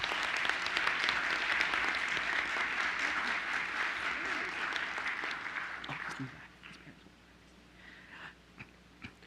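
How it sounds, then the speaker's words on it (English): Audience at a school board meeting giving a warm round of applause, a dense burst of clapping that thins out and fades after about six seconds, leaving scattered faint claps and room noise. "So let's give him a warm round of applause."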